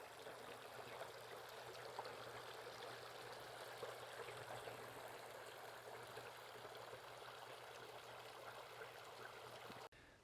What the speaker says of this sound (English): we'll have some beautiful water noise behind us